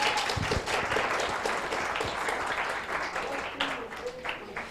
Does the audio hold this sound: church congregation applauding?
yes